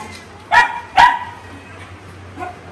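Pet dogs at a home give two sharp barks close by, a half second apart, followed by a fainter yip, with a low steady hum underneath.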